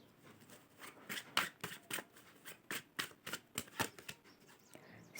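Tarot cards being shuffled and drawn by hand, close and quiet, a quick irregular series of crisp riffling flicks and slaps, each sharp and separated by short pauses.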